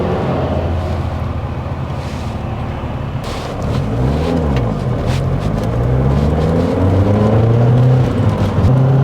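A Lotus Esprit GT3 pulls away from a junction, its engine note rising steadily and growing louder from a low idle into a building drone, close and constant throughout.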